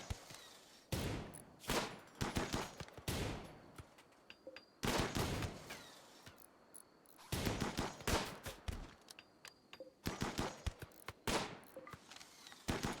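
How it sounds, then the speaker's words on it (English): Bursts of gunfire from a combat fight in the game Rimworld, with sharp volleys and rapid automatic fire in several clusters separated by short lulls, loud and fairly close. "now we just gun the rest down"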